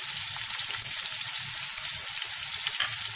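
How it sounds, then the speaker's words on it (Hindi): Whole spices such as cinnamon sticks, bay leaf, cardamom, black pepper and cloves frying in hot oil for Sindhi biryani: a steady, close, bright sizzle with fine crackling pops, continuous throughout and without talk. "इसको फ्राई करना शुरू किया"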